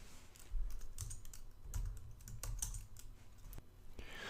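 Computer keyboard typing in a Linux terminal, a steady run of close, crisp keystrokes with a few louder clacks, heard alone without speech.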